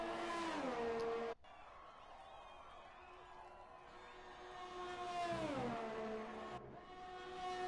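A racing-game car on a flying lap at Belgium, its engine note climbing steadily through the gears, with abrupt gear-change dips and sharp pitch drops as it brakes, heard loud and close from onboard.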